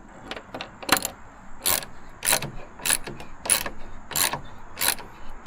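Bolts being cranked tight on a wooden treehouse frame with a ratchet wrench, a run of about eight sharp, evenly spaced clicking bursts, close and fairly loud with no talking.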